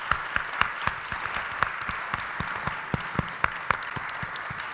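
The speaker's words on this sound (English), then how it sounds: "Please give our catering staff a big round of applause." An audience at a talk hosted by the Ohio Department of Aging gives catering staff a moderate round of applause, with a few sharper individual claps popping out of the steady patter.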